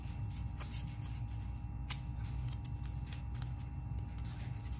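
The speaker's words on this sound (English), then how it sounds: "simply take a corner here, cut, and flip" Scissors snip repeatedly through crafting material while building a crypt, a steady series of close, crisp cuts over a constant low hum.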